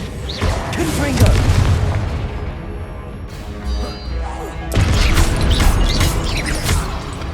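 In the Hogwarts Legacy video game, a Confringo fire spell sets off booming blasts and crashing impacts amid a dense, loud battle racket, with a second heavy burst partway through.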